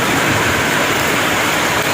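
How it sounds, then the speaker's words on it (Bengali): Heavy evening rain at a town railway station, heard from under a platform shed, a dense and steady broadband roar that holds at a constant loudness throughout with no voices. "প্রচুর বৃষ্টি হচ্ছে।"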